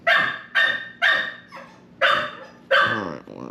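A puppy barks close by indoors during a fishing reel service, five or six sharp yips and barks spaced about half a second apart, the last trailing into a whimper, with no talking.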